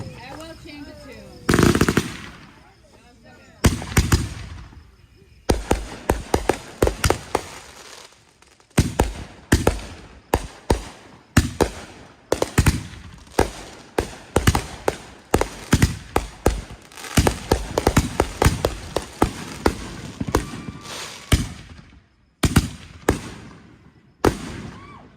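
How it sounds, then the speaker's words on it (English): A neighborhood fireworks show going wrong, with ground explosions: sharp, loud bangs and crackling bursts fire in irregular clusters, some in rapid strings like gunfire, separated by brief pauses, with voices audible between the blasts. "The loud explosion you just heard was the beginning of the chaos that ensued."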